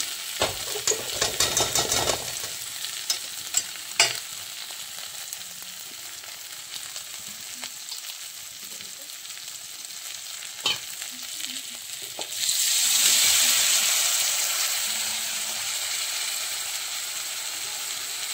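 Masala being stir-fried in a pan for duck egg pulao: a steady sizzle with scraping and stirring clatter near the start, then the frying hiss swells louder in the last few seconds, no voices.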